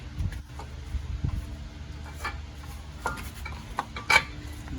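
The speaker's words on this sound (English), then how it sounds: "Take this big old nut off." Metal clanks and scrapes while a large nut comes off the CV axle at the steering knuckle of a 2011 GMC Terrain 2.4, driver side; sparse, close knocks and clinks in a quiet garage.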